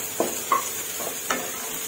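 Bamboo shoots and egg are stir-fried in a pan, a soft sizzle under a few brief scraping strokes of a utensil, heard up close with no talk.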